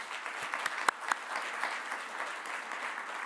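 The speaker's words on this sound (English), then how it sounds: "A big applause for everyone" Steady applause from an audience, many hands clapping in a dense, even wash with a few louder claps standing out early on.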